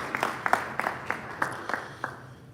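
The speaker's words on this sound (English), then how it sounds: "Please, a round of applause for her" Sparse clapping from a small audience at a formal state business delegation event, about eight or nine separate, fairly close claps in an uneven rhythm with no talking.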